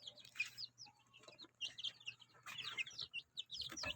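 Chickens in a coop cluck and chirp softly just after being fed. The calls are short and overlapping, come in irregular bursts, and sound fairly close and quiet.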